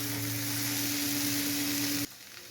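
Soaked poha, salted and sugared, tossed gently into hot tempering in a pan for kanda poha, giving a steady loud sizzle with a low hum that stops abruptly near the end.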